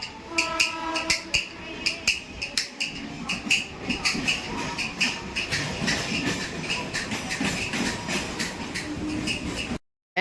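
A Mumbai local train rattles along with rhythmic clickety-clack of wheels over rail joints, a steady loud rumble throughout, cutting off at the end.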